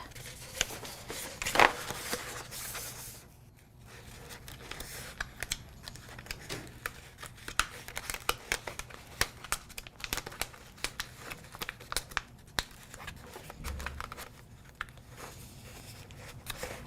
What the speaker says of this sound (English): I'm going to use that same hinge method to apply my transfer tape.